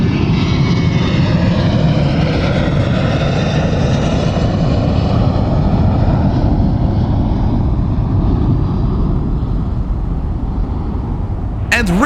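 A model Airbus A330 MRTT departs a miniature airport, its steady, loud jet-engine roar filling the whole stretch without a break.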